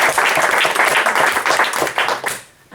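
Lively audience applause fills a comedy show venue, dense clapping from a crowd that stays strong, then thins out and fades near the end.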